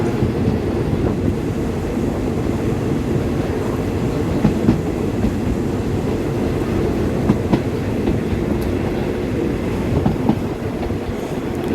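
Rapid train 135, a passenger train, rumbles steadily along the rails as it slows into Muak Lek station, with a continuous low, loud rolling roar and faint clickety-clack over nearly twelve seconds, no voices.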